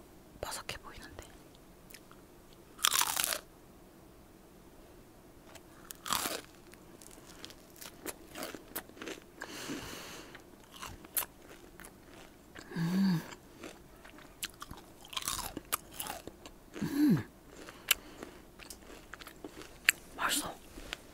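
Crunchy KFC fried chicken skin being bitten and chewed up close, with sharp crackly bites at scattered moments and soft whispered talk between them.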